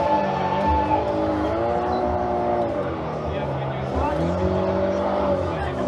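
A car drifting in JDM Japanese Drift Master, its engine revving and shifting pitch in rising and falling sweeps with tire squeal, loud and close with a voice talking over it.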